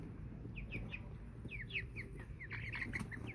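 American Bresse chickens cluck and chirp in short, repeated calls while being handled, several birds sounding close over a low rustling background, with no talk.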